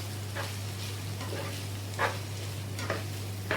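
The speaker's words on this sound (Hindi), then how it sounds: "जब तक प्याज सौटे हो रहा है आपने प्याज के साथ ही चिकन भी ऐड कर देना है।" Onion and minced chicken sauté in a pan for Chinese masala rice, a soft continuous sizzle over a low steady hum, with occasional stirring scrapes.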